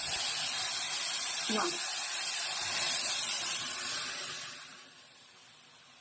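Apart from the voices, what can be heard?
dal sizzling as it is added to hot tempering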